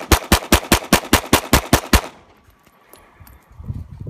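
Glock 19 pistol with a Tier 1 Salient slide, fired outdoors during a sand test: nine sharp, loud shots in quick, even succession over two seconds, then near silence with faint low rumble afterward.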